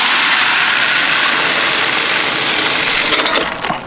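A farm tractor engine idling close by, a steady loud mechanical rumble that continues unbroken, with some clinking and rattling near the end.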